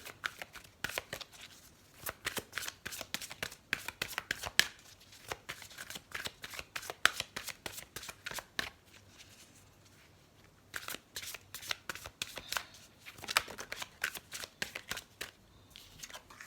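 Oracle cards being shuffled and drawn from a heart chakra deck: steady, close riffling and flicking of cards in quiet bursts that run for over fifteen seconds, with no talking.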